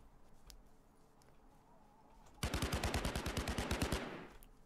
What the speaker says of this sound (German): Auf mich geschossen.